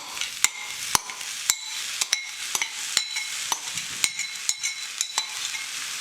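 Minced aubergine sizzling in a pan for a plant-based bolognese, with a steady crackling fry broken by regular sharp scrapes and clacks of a utensil stirring through it, close and alone.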